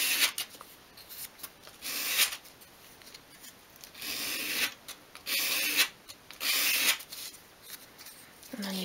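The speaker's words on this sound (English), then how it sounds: "we're just rounding off that front edge but without taking away any of the depth" Sandpaper or a file rubbing the front edge of a 1/12th scale miniature wooden chair, in repeated short scratchy strokes with pauses between, close and fairly quiet.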